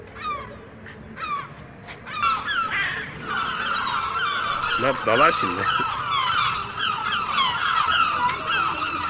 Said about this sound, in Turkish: Bu martılar bugün çok fazla.